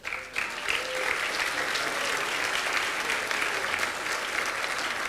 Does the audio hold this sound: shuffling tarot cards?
no